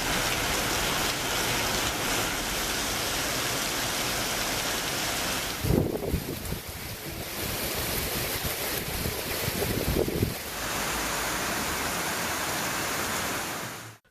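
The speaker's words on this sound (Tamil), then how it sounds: "பிற்பகலுக்கு பிறகு பலத்த காற்றுடன் கனமழை கொட்டி தீர்த்தது" Heavy rain lashes down in strong wind, a dense, loud roar of falling water that holds steady for most of the stretch, with a few brief gusty swells and dips.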